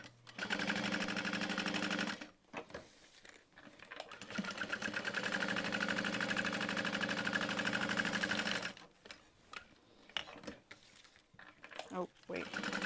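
A sewing machine stitches the side and bottom seams of a small handbag with lining fabric, running in loud, fast rhythmic bursts of several seconds, pausing briefly between runs, with short stops and handling noises near the end.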